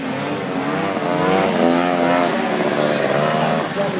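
A Yamaha racing motorcycle at an old-bike race at Taberg roars past close by, its engine holding a high, wavering rev as the note shifts, with a commentator talking over it.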